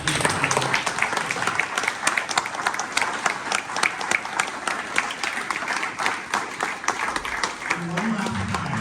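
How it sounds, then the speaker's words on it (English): A crowd at a startup pitch event gives dense, sustained applause to a panel on stage, loud and continuous throughout, with a voice speaking briefly near the end. "I want you all to make a huge round of applause for"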